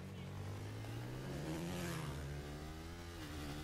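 A motorcycle engine in the video game Battlefield 3 revs steadily and continuously throughout, with a voice over it.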